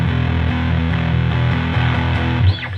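Electric guitar played through a crunchy distortion pedal on a pedalboard, a short run of gritty, saturated chords and notes close and loud, with no talking.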